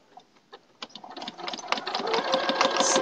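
Domestic sewing machine stitching the seams of a log cabin quilt, starting with a few short bursts and then running steadily, close and fairly loud.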